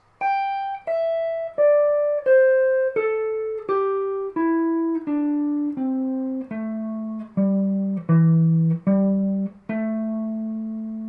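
Clean guitar plays single picked notes of a pentatonic scale one after another, stepping down and then turning back up, each note ringing briefly, no talking.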